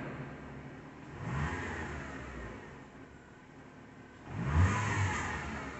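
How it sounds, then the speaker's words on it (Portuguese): A Chevrolet car engine revs twice from idle, each rise swelling and falling back, the second push louder, with a steady engine hum between and no talk. "Vamos dar uma acelerada para ver?"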